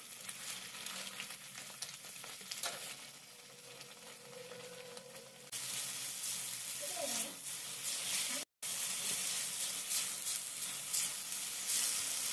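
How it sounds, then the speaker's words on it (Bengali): Masala with turmeric and chili powder frying in a pan for prawn posto, giving a continuous hissing sizzle that grows louder partway through, with occasional faint stirring and no talking. "হলুদ লঙ্কার গুঁড়ো দেওয়ার পর মশলাটাকে আরও বেশ কিছুক্ষণ সময় ধরে কষিয়ে নিতে হবে।"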